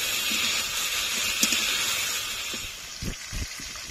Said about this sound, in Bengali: মাংসগুলো ভালো করে ভেজে নেব।